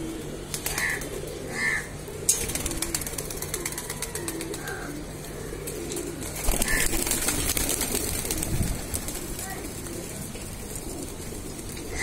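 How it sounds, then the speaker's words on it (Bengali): Giribaj pigeons coo in short, soft, repeated calls at moderate distance over a steady low hum and faint outdoor background, with no talking. "এ একটা আমার খুব পছন্দের একটা কবুতর,"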